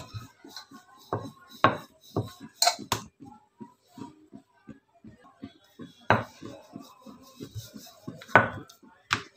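Spinach paratha dough being rolled out on a board, with a rolling pin giving irregular soft knocks and taps and occasional louder clacks and scrapes, close up.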